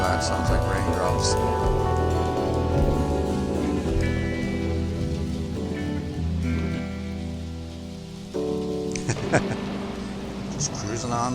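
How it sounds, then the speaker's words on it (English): Rain sound effect blended into a rock song, a soft steady patter running beneath dense music throughout, with the band's instruments prominent and the rain mostly submerged in the mix. "That sounds like raindrops."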